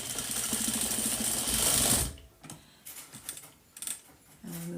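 A sewing machine stitches a Halloween bag in a fast, close rattling run for about two seconds, then stops, followed by a few faint clicks and handling sounds.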